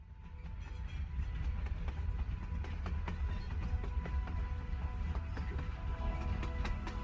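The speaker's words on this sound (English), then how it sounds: "Oh, here we go with the trains again." A train passes in Life is Strange Before the Storm, a steady, loud low rumble with faint rhythmic clatter running throughout, no talking over it.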